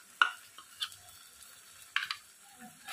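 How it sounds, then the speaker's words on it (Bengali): Mustard and green chili paste stirred into banana stem cooking in a pan: a few soft scraping strokes spaced apart, quiet and close, with faint sizzle between. "দিয়ে আমি নাড়বো, নাড়তেই থাকবো এটা"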